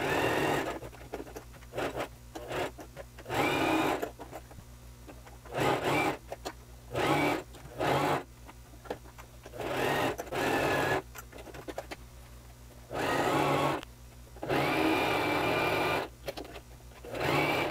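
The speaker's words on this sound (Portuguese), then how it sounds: "vou fazer uma costura na reta e no overlock" Sewing machine stitching straight seams on pieces of a jacket with a detachable zipper, running in loud bursts of a second or two separated by short pauses, close up.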